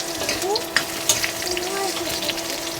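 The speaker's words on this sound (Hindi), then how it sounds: "अब आलू गोल्डन ब्राउन तक भुंजा गई संगवारी हो" Potatoes frying in a pan until golden brown, a steady sizzle broken by sharp utensil clinks and scrapes as they are stirred.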